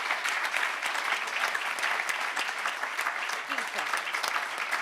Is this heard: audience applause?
yes